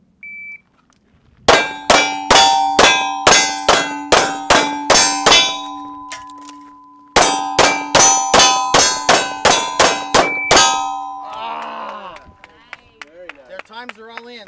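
Rapid runs of sharp metallic pings ring out as gunshots strike steel plate targets at a shooting match, two fast strings of hits with lingering ring, followed by faint talking.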